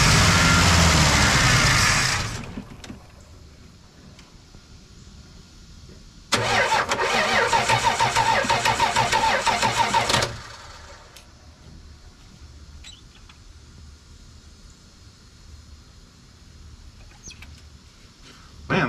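A flooded 1980 Dodge D100 pickup engine cranks in two long, loud bursts of rapid starter chugging without firing, separated and followed by quiet pauses.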